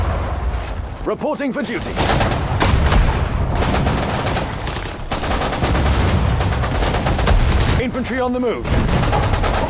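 Sustained gunfire and explosions from a World War II real-time strategy game, Sudden Strike 4, in the Falaise pocket battle; dense, loud volleys run throughout, with short radio-style voice lines from units heard over the shooting.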